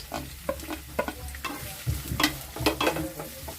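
Onions and curry leaves fry in a pan, giving a close, busy sizzle with frequent crackles and stirring scrapes throughout; no voices are heard.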